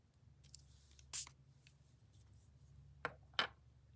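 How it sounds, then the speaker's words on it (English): A spray bottle spritzes a craft project in rust orange and olive green with a few short, quiet puffs, one early and two close together near the end, over a faint low hum. "Put some of the rest and then spritz it just a little."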